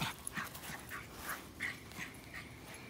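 Puppies whimper and pant close by in short, repeated high whines. Quick breathy pants sit between the whines, all fairly faint, with no talking.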